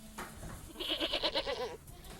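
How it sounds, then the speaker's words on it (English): A goat bleats once, close and clear, in a quavering, pulsing cry of about a second over a steady low background hum. "We got goats. White goats, brown goats, black and white goats."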